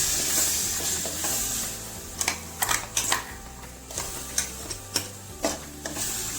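Spicy masala with ginger garlic paste fries in a pan for a capsicum curry, a low steady sizzle under a series of sharp scraping stirs and clicks of the spoon against the pan, close and fairly quiet.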